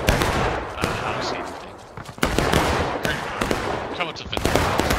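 Musket volleys in the Civil War shooter War of Rights crackle in ragged bursts and scattered single shots across a battlefield, loud and overlapping, with chatter between the firing.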